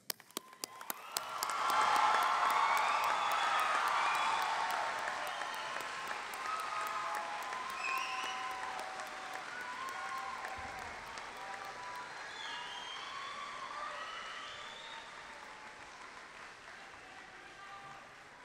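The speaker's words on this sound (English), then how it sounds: "We now ask the graduates to turn and acknowledge their parents, family, and special guests with a round of applause for your support." A large graduation audience breaks into applause that swells quickly, then holds as a broad, steady wash of clapping that slowly thins, with scattered cheers.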